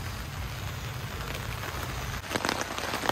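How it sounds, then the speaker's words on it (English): Rain patters steadily on a camouflage tent, a dense crackling hiss of many drops on fabric, close and even, with a few louder taps near the end. "It's starting to rain."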